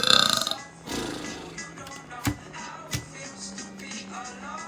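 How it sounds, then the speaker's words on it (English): A long, deep, rumbling burp is heard up close and loud at the start, followed by quieter room noise and a few soft thumps. "Can you burp on command?"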